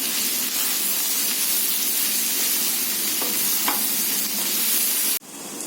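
Boiled, salted, deboned chicken pieces being mixed in a hot pan, a loud broad hissing sizzle with a few faint scrapes and clicks, cutting off abruptly near the end.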